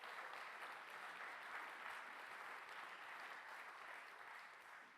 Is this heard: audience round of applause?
yes